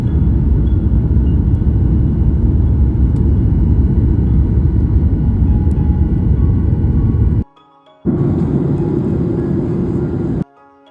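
Steady loud broadband roar of an airplane cabin in flight, constant and enveloping, cutting out briefly twice near the end.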